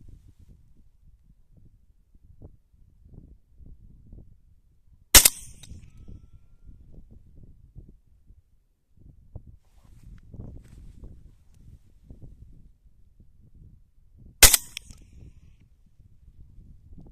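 Two sharp rifle shots ring out about nine seconds apart while BOLT bullets are test fired at 50 metres, each a loud crack with a short tail, separated by quiet low rumble.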